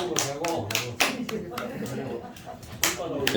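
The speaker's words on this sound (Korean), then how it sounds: "박수 한번 쳤다." Hand clapping during a lecture: a handful of sharp, irregular claps ring out close by, interspersed with people talking.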